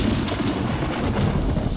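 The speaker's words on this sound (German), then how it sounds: "Ein Gewitter näherte sich und es begann zu regnen." Thunder from an approaching storm rumbles low and broad as rain begins to fall, filling the short stretch without pause or voices.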